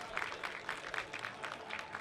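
Crowd applause and cheering at a Persona 4 Arena Ultimax top 8 fighting-game tournament, Frosty Faustings XVI, a loose burst of clapping heard at moderate distance, with faint voices underneath.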